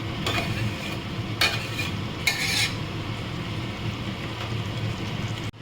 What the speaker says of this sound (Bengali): একটু নাড়িয়ে এটা এখন আমি আরও কিছুক্ষণ কষবো